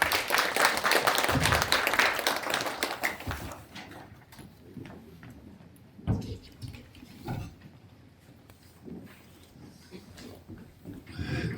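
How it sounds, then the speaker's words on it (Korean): Audience applause welcoming chairman Oh Jong-cheol at a small Gwangju branch gathering of the Yeongnam-Honam forum: a dense burst of clapping for about three seconds, then dropping to a quiet room with scattered claps and shuffling. "여러분 따뜻한 큰 박수로 환영해 주십시오"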